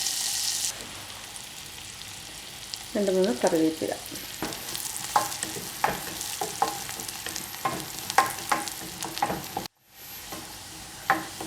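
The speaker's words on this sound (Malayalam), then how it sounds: "അതിലേക്ക് ഞാൻ ചെറിയ ഉള്ളി അരിഞ്ഞതും ഒരു വലിയ വെളുത്തുള്ളിയുടെ അല്ലി അരിഞ്ഞതും കൂടെ ചേർത്ത് വറുത്ത് കോരാൻ വേണ്ടിയിട്ടാണ്" Chopped small onions and garlic crackle and sizzle in hot butter while a spoon stirs and scrapes the pan, with brief bursts of louder frying and repeated scraping taps close by; a voice speaks briefly.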